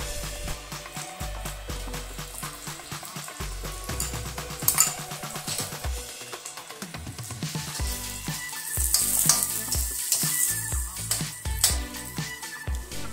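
Garlic, ginger and onion sautéing in a hot pan, a steady loud sizzle and crackle with occasional stirring scrapes and bursts as each ingredient goes in.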